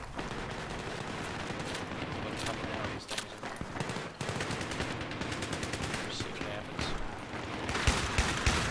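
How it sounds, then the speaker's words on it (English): Rapid automatic gunfire in a Battlefield 3 Gun Master match on Ziba Tower, sustained bursts and scattered shots filling the whole stretch, loud and near, with a player talking over the fighting. "I'm getting shot at."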